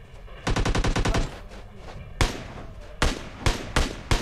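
Gunfire in the battle-royale game PUBG: a rapid automatic burst of about a dozen shots, then a pause and several louder single or paired shots, close and sharp, with little talk.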